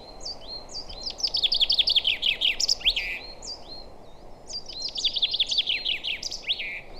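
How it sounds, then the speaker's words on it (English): A chaffinch sings twice in a forest reserve, each phrase a fast descending run of bright notes ending in a flourish, close and clear over faint ambient hum. "And chaffinch is one of the two most common songbirds that we find here in the forest on the reserve"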